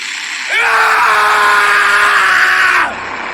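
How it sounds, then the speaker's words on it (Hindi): A single long, loud cartoon scream, as from someone inside a house, rises abruptly, holds steady for about two seconds with a slight wavering pitch, then cuts off sharply. "इन तीनों को घर के अंदर से किसी की चिल्लाने की आवाज आती है"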